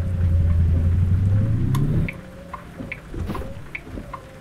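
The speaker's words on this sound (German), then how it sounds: "Leider immer noch am Regnen, wie in der letzten Folge." Steady rain falling in the trucking game American Truck Simulator, a dense wash with occasional drips that sounds loud for the first two seconds, then drops to a softer patter with scattered taps.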